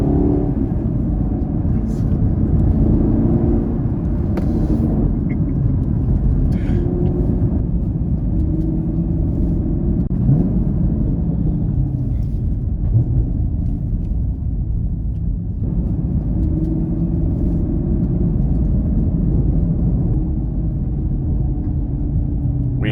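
A 2022 Chevrolet Camaro SS 1LE V8 engine holds a loud, steady rumbling drone throughout a track lap at Daytona, heard from inside the car with little change in pitch.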